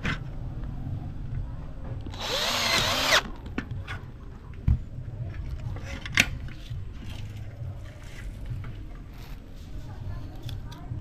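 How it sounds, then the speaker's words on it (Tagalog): A power drill bores through the middle of a 50 series awning window forebar hinge in one loud, steady burst of about a second, followed by quieter clicks and taps with someone speaking at a distance. "Then drill nato diri sa tunga."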